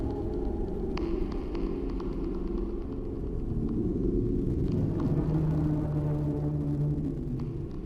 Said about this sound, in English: the eerie sound the ice machine truly was making. It sounds like the windy moans of a ghost.